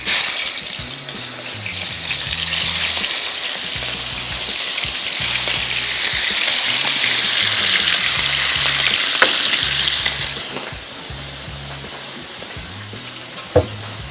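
Fish dropped into hot oil sizzles loudly and continuously, crackling up close for about ten seconds before the frying settles to a quieter hiss, with a sharp clink near the end; no one speaks.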